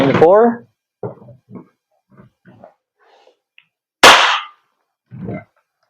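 A WE Glock 17 Gen 5 airsoft gas blowback pistol fires a single sharp, loud crack through a chronograph, with someone speaking briefly before and after the shot.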